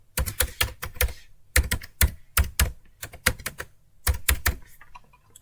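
A computer keyboard being typed on in quick clustered bursts of crisp, close key clicks separated by short pauses, with no talking.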